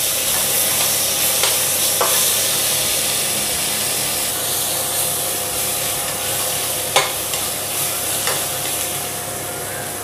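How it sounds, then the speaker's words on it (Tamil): Onions and tomatoes sautéing in a pan for vegetable biryani, a steady low sizzle with occasional scrapes and stirring knocks of a spoon, continuous and close with no talking. "இப்போது நம்ம இந்த தக்காளி போட்டுடலாம் தக்காளி போட்டு கொஞ்சம் வதக்கிக்கலாம்"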